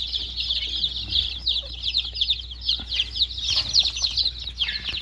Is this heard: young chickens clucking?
yes